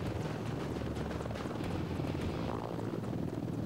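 A helicopter flies along the Atlantic coastline. Its rotor roar and turbine whine are loud, close and steady throughout, with a rushing wind-like wash and no talk.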